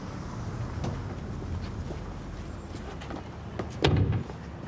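An indoor door slams shut with a single heavy thud near the end, following a stretch of quiet room tone.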